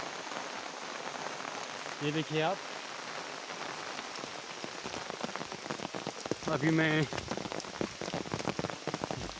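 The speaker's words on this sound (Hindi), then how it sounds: "बहुत तकड़ी बारिश हो रही है।" Heavy monsoon rain pours steadily on a hillside path in the Pahadi region, a dense close hiss that fills the whole stretch, while someone briefly speaks Hindi twice over the downpour.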